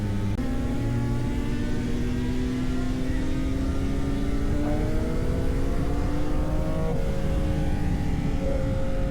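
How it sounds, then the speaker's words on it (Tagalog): Loud motorcycle engine, a 675 cc sport bike idling and revving on the Marilaque road, a steady close rumble with rising and falling tonal whine throughout. "Napakaingay ng motor ni Darwin."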